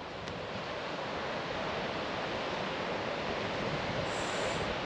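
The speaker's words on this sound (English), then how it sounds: "straight out to the ocean" Surf washes steadily onto a beach at Fanny Cove, a constant broad roar of breaking ocean waves with some wind buffeting, no talk.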